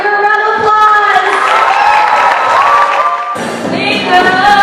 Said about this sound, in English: So everyone give her a round of applause